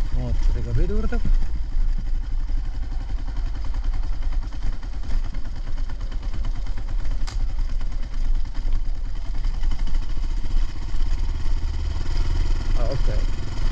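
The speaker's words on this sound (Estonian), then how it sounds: "Mootoriga pidurdab." A motorcycle engine runs steadily while slowing by engine braking on a Trans Euro Trail ride in Estonia, a continuous close drone with wind noise, and a rider's voice briefly heard over it.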